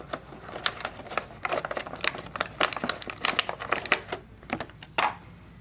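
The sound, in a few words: plastic wrap being removed from a phone mount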